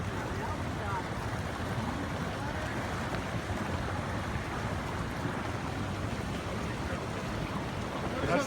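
Floodwater from a flash flood surges down Ellison Creek near Payson, a steady, dense roar of rushing water filling the scene without pause, loud and close, with wind buffeting the microphone throughout.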